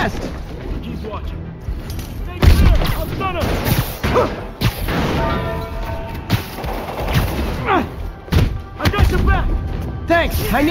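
Gunfire and heavy impacts in Spider-Man Remastered, with bursts of shots, thuds and crashes over a loud, busy action scene, while voices shout over the noise.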